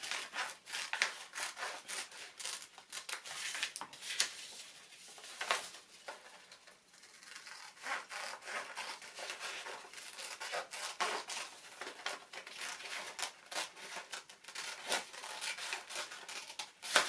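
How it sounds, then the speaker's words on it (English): Scissors snip through paper in quick, irregular bursts of crisp cutting and rustling while a concertina book is being made, close and fairly quiet, with no talking. "then turn your paper around and cut"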